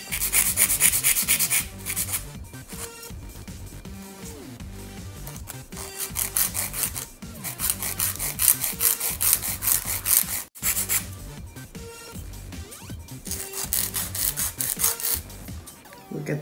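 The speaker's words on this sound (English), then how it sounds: "So now I will be filing the nail." An acrylic nail is filed into a coffin shape, giving close, repeated rasping strokes in bursts separated by short pauses, with no talk.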